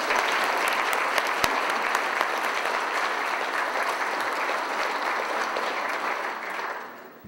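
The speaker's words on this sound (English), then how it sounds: "show our sponsors a big round of applause for all of their contributions" A large audience at the 2009 California Small Farm Conference gives a big round of applause for the sponsors, steady dense clapping that fills the hall and fades out at the end.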